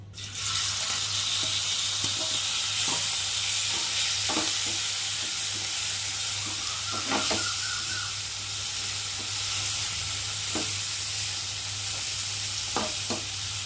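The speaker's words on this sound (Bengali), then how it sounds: "এই যে নুন হলুদ মাখিয়ে রাখা চিংড়ি মাছগুলোকে দিয়ে একটু ভেজে নেব" Prawns coated in salt and turmeric fry in hot oil with a loud, continuous close sizzle and a low steady hum, while scattered taps and scrapes of a spatula mark occasional stirring.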